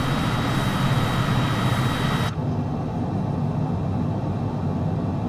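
A MiG-21 Bis jet engine at high throttle in Microsoft Flight Simulator 2020, a steady, loud roar with no voices, its hiss suddenly duller partway through.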